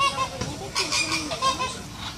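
Loud, repeated honking calls from a flock of flamingos, overlapping in a noisy chorus close by.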